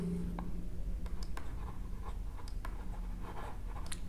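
A pen writes out vector notes, with soft close scratching strokes in short bursts and pauses, faint and alone with no voice.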